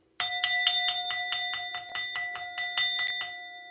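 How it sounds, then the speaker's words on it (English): A bell is struck over and over in quick succession, each hit ringing bright and close, with a long metallic sustain that slowly fades between strikes. "Let me hit the bell."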